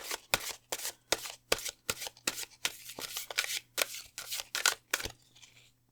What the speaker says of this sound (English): let's shuffle together.